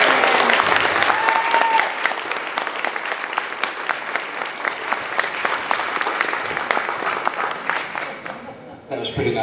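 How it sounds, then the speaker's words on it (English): Sustained applause from a convention audience greeting actress Terry Moore at a Q&A, steady dense clapping that fills the room for nearly the whole stretch before thinning out at the end. "Big round of applause for Miss Terry Moore"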